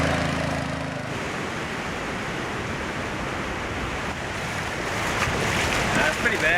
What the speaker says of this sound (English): Just heaps of waves coming in the front.